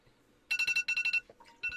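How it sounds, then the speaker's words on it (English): A phone alarm rings in loud, bright bursts of repeated beeping tones, two tight clusters followed by a softer stutter and another burst, close to the device with no talking over it. "That was my alarm for Jeff Keighley"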